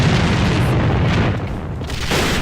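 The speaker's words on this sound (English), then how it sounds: "Grenade!" A grenade detonates in a multiplayer shooter video game, a loud, sustained boom with a broad rumbling tail that fills the clip, slightly dipping midway before swelling again.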